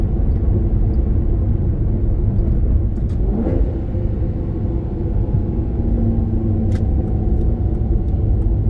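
Steady, loud engine rumble from a 2013 Maserati GranTurismo Sport, with a brief rev blip around a paddle-shifted downshift partway through and a few faint clicks.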